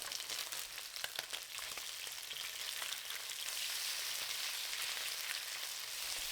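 Marinated chicken pieces and lemongrass searing in hot oil for Thai-style sweet and sour chicken, a steady close sizzle with faint crackles running throughout.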